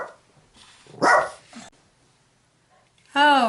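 Dogs in a home barking and yipping in the background, a short burst early then a sharper bark near the end, fairly close, with no talking over them.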